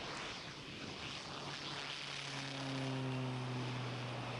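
A PC-9/A turboprop trainer's propeller engine at takeoff power on an air force circuit, a loud steady drone with rising harmonic tones that builds in strength toward the end.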